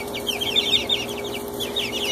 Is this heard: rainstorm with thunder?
no